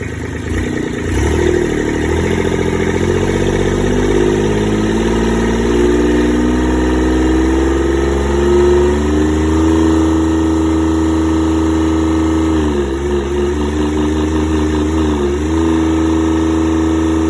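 A Kubota D1105 three-cylinder diesel engine, rated 25+2 horsepower, runs steadily and loudly up close, a continuous low throbbing drone with slight shifts in pitch and rhythm as it keeps running.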